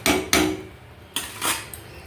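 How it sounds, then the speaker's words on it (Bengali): Remaining dishes, pots and pans being washed at home: several sharp, close clanks and clatters of kitchenware, with quieter rattling between the knocks and no voices. "বাকি বাসন ধোয়া কমপ্লিট"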